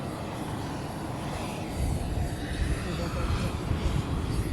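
Airplane engines roar steadily near the tarmac at an airport arrival of the president and First Lady in Buffalo, a loud continuous broadband rumble with crowd or voices mixed in.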